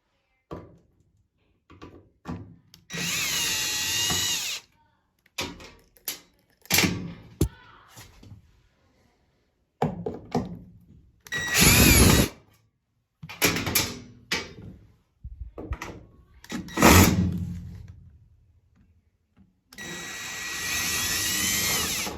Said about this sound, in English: then I can put it in my drill, and then we'll unscrew them all